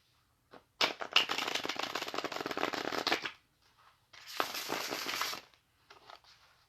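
A tarot deck is shuffled in two bursts of rapid riffling card flutter, each lasting a couple of seconds and separated by a short pause, close and clear with no talking.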